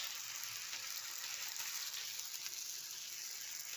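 Coconut poli made with wheat flour and ghee cooking in a pan, giving a faint, steady sizzle that hisses evenly throughout with no voices.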